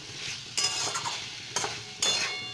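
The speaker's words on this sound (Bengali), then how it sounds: "এবার মশলার সঙ্গে ডাটাটা ভালো করে মাখিয়ে নিচ্ছি" Drumstick stalks being stirred with spices in a hot pan, giving a soft scraping stir with a low sizzle underneath and three sharper clinks of the utensil against the pan.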